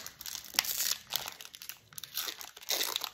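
A Pokémon card booster pack wrapper from an Amphinobi EX box is torn open up close, making quiet, crisp crinkling in several short bursts with gaps between them.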